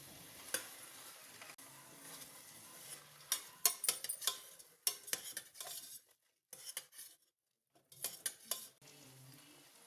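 Red masoor dal frying in a pan for a brinjal curry, a spoon clattering and scraping the pan in bursts between brief quiet gaps, over a faint sizzle, no voices.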